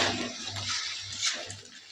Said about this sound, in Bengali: এবার আমি ডিমটাকে নেড়ে চেড়ে ভেজে নিচ্ছি।